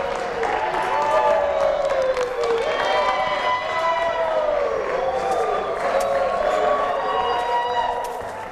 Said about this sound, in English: Clap, hoop, holler.